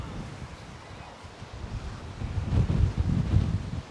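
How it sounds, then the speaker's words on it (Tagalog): Strong wind gusts across the microphone outdoors at a tulip festival, a rumbling, buffeting roar that swells louder in the second half. "Malakas ang hangin."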